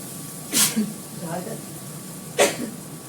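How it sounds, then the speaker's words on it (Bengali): Two short, sharp coughs brought on by hot weather, spaced a couple of seconds apart, close to the microphone, with faint kitchen background between them. "গরমে কাশি সব এসে যাচ্ছে।"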